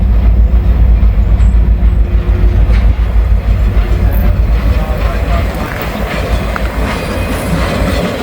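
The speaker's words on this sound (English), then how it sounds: "Looks like we got a local with a caboose." A local freight train with a caboose rolls through a big rail junction at Park Avenue in Northern Kentucky, a loud, close, continuous rumble and clatter of wheels that eases slightly toward the end.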